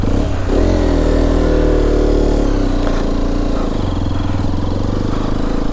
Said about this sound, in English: now let's go for a short ride on this all new Hero Xpulse 210